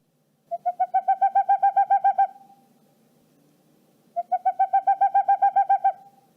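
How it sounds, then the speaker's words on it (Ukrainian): Boreal owl calling in two long bursts of rapid, evenly spaced hoots, each run lasting nearly two seconds with a pause between, clear and close against a quiet background. "Радше за все, ви у кіно, а можливо й у житті, чули приклади хіба що сича волохатого."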